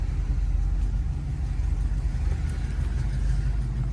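A 1976 Cadillac Seville's engine rumbles steadily as the car drives off, a continuous low, even drone with no clear revving peaks.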